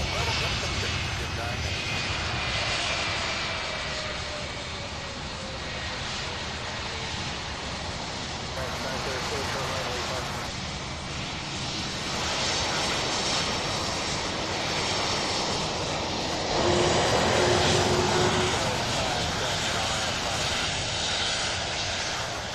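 Airliner landing at Louisville SDF airport, a steady broadband engine roar throughout with a whining tone, wind noise on the microphone, and people talking over it.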